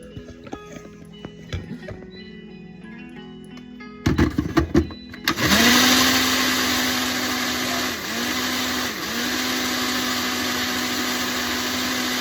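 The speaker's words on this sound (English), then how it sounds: "I'm gonna blend that up." A blender making juice roars to life after some clattering, running steadily and loudly with its motor pitch dipping briefly a couple of times.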